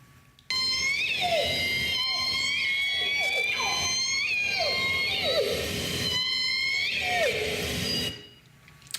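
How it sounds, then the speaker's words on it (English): J-pod orcas calling underwater, a run of rising and falling whistled yee-haw calls repeating over several seconds, clear and fairly close against a faint hiss. "J-pod makes a sound like yee-haw"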